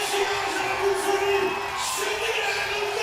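Basketball crowd at a FIBA 3x3 World Cup play-in game cheering on its feet, a steady roar of whoops and yells throughout with a commentator talking over it.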